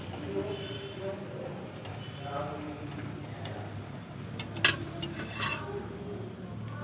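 Potato and flour snacks frying in hot oil give a quiet, steady sizzle and crackle, with a few faint clinks from a pan or utensil.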